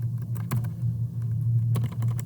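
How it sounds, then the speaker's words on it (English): Computer keyboard typing during a school lesson on SketchUp and CNC laser projects, heard as quick, uneven bursts of keystroke clicks over a steady low hum, fairly close and with no talking. "I typed wrong."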